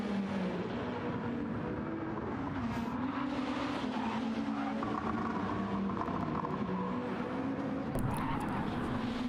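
Race car engines in a touring car racing video game, with a car skidding off the track at the Milano circuit; a steady droning engine note with rising and falling pitch and faint tyre noise, no talk.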